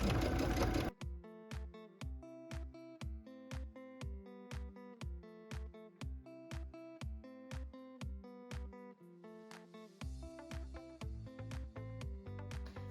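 A sewing machine stitches a tablet sleeve seam in even, rhythmic pulses, close and clear, with a brief louder clatter at the start and a busier stretch near the end.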